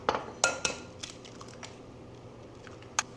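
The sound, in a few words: cracking eggs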